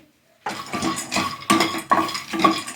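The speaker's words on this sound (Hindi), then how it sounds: "इसी कढ़ाई में अब हम थोड़ा भून लेंगे मूंगफली" Peanuts dry-roasting in a kadhai rattle and scrape as they are stirred continuously, with a rhythmic series of loud metallic scrapes and clinks starting abruptly after a brief quiet moment.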